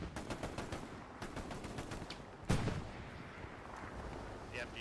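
Distant automatic machine gun bursts from a Hell Let Loose match, soft rapid rattles repeating through the clip with one louder crack midway, set against low battlefield rumble.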